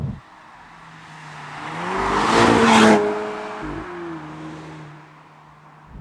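A Volvo V60 Polestar sweeps past on a British road, its engine note rising as it nears, swelling into a loud tyre-and-wind roar, then dropping in pitch and fading as it pulls away.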